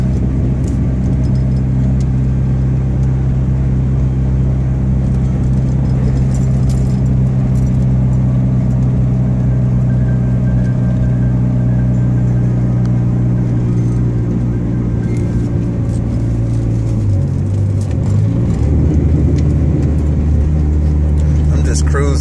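A loud car cruises at night, its engine droning heavily and continuously in the cabin with a shift in pitch near the end, while a person talks over the noise.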